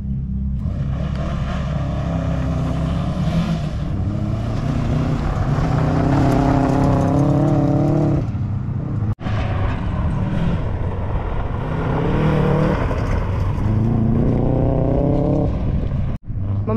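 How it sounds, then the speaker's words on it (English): A Subaru rally car at Symmons Plains Raceway during a khanacross event, its engine loud and close as it starts and revs repeatedly in rising and falling surges, with two brief cutouts. "My mate Blake's Subaru is just going to start now."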